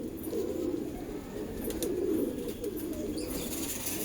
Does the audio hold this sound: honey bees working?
no